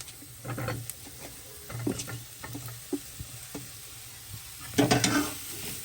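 Spices for an aloo samosa filling fry with a soft, steady sizzle in a pan, broken by several scraping stirs of a spatula, close by and moderately quiet, without speech.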